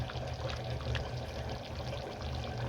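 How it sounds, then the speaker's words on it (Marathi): A glass of water poured into a pot of mutton set to cook, a steady close splashing pour against a low background hum. "आता आपण एक ग्लास पाणी घातलं आहे मटण शिजायसाठी"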